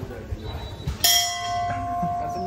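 A single bright bell strike rings out about a second in, its clear metallic tone sustaining and slowly fading, following some quiet background voices and movement.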